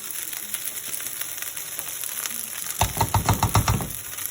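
Butter hits a hot pan of Mongolian chicken, a steady bright sizzle followed by a burst of rhythmic scraping and tossing strokes near the end, close and moderately loud, with no talking.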